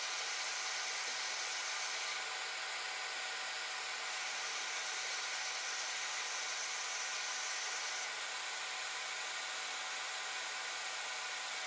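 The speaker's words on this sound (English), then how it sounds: "I'm going to put the hot air gun back onto the port, hopefully joining the traces on the board to the pins on the port" A hot air gun blows steadily while reflowing solder on an Xbox One S port, a constant close airy roar with no pauses.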